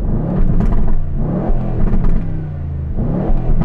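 An Aston Martin engine revs hard and loud close by in repeated blips, rising and falling in bursts with brief lulls between.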